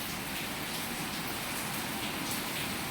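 Heavy rain pours down around a house, a dense, steady hiss of water hitting surfaces that fills the whole stretch without a break.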